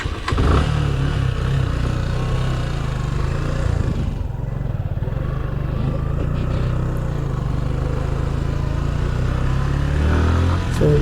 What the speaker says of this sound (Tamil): பைக்கை ஸ்டார்ட் பண்ணிக்கலாம்